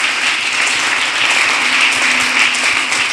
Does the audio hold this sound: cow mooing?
no